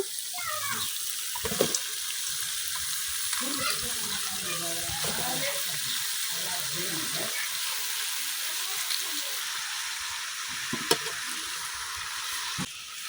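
Pumpkin greens being stirred into fried spices in a pan, a steady sizzling hiss with scraping stir sounds and occasional clacks, close and moderately loud, with a brief voice near the start.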